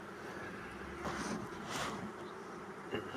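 Honey bees buzz at an open two-queen beehive, making a steady, dense drone close by. Louder individual bees swell past now and then, and no one speaks.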